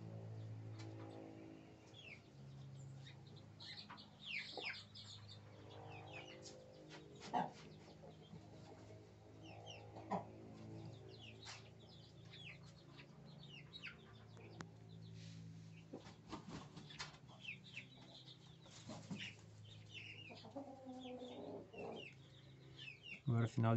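Brahma hen clucking softly near three-day-old guinea fowl keets at dusk on a farm, with scattered chirps and steady low murmuring clucks throughout, fairly close, with some voice in the background.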